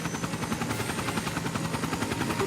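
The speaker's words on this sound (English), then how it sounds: "It's a chopper!" Rapid, loud rotor thumping from a pale Apache-style flying orbital puppet chopper in Trails in the Sky SC, continuous and close with no talk.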